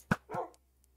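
A tamed wolf dog in Minecraft barks once sharply and close, then lets out a second, lower bark-like yelp, with faint game sounds trailing after.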